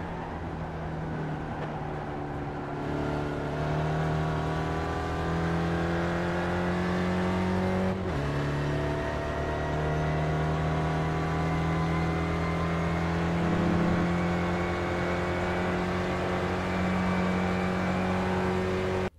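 Race car engine in the iRacing sim, an SRF at Phillip Island, holding a steady loud drone through a long corner with a brief dip around the middle, then pulling again; no voices.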